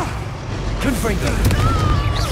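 A Confringo fire spell blast from the Hogwarts Legacy video game: a sharp, booming burst lands partway through amid game effects and rumbling background, over brief character voices.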